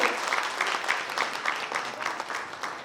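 Enthusiastic audience applause at the Urja Women Award 2025 ceremony honouring RJ Devaki, steady dense clapping with rhythmic pulses, moderately loud and continuous through the short stretch.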